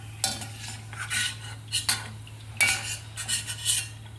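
Fried cashews scooped out of a pan onto a plate, a string of metallic scrapes and clinks of a spoon against the pan over a low steady hum, no talking.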